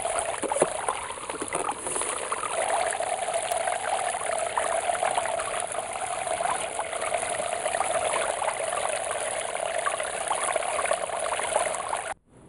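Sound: water flowing from a sump pump through a gold sluice

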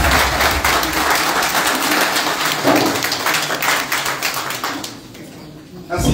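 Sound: applause

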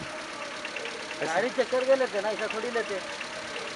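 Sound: used car engine idling at auction

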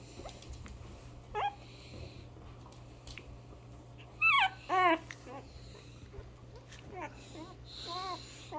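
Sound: puppy whimpering

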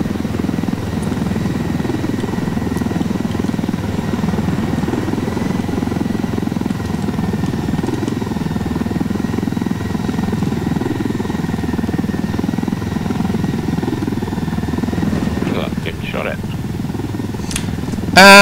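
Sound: helicopter flying in a video game

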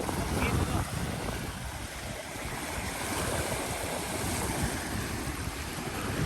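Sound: strong wind at Sirindhorn dam

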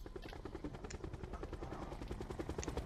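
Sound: helicopter in the video game Call of Duty Black Ops 4

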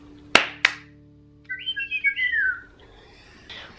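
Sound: Tiny Furries plush toys chirping and singing

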